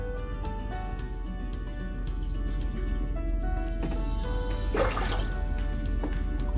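Roughly half to one cup of water is poured into a bowl while chicken is being cleaned in a kitchen, giving a steady splashing trickle that swells briefly midway, with no talk over it.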